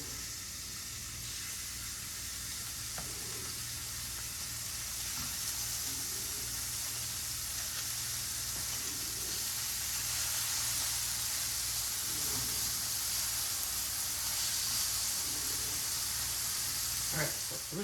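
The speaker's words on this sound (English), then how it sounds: "So you hear that sizzle?" Kansas City steak sizzles in a hot pan with a steady, dense hiss that swells slightly louder over time, with faint background sounds.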